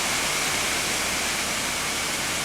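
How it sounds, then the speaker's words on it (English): A waterfall roars as a constant, loud, broadband rush of falling water, steady and unbroken throughout. "I can't think of a better place to have one last look than this waterfall"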